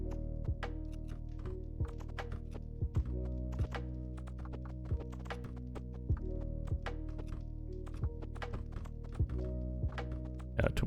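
Repeated shots at a cauldron in a tower incremental video game land as a steady run of dull thunks and taps, close and distinct, over a constant tonal music bed with no talking.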